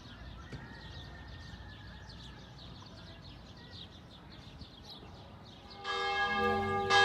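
Birds chirp faintly over a low background hum in a garden of old olive trees in Jerusalem, then a church bell begins ringing loudly near the end, its tones sustained and resonant.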